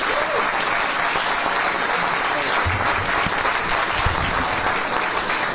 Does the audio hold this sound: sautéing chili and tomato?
no